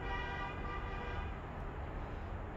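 A car horn sounds from the street outside, a sustained steady honk held for a couple of seconds under a low traffic rumble, moderately distant.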